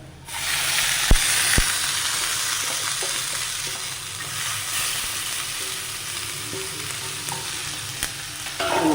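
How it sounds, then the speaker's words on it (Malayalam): Finely chopped carrot fries in a pan for carrot thoran, a loud, constant close sizzle with a few sharp spoon knocks early on and scattered lighter scrapes as it is stirred, no talking. "ക്യാരറ്റ് ചേർത്ത് നന്നായി ഒന്ന് മിക്സ് ചെയ്ത് കൊടുക്കാം"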